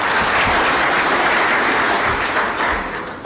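Sustained applause from an audience at the launch of a Kenyan electoral commission's post-election evaluation report, honouring the CEO; a steady, dense wash of clapping throughout without talk.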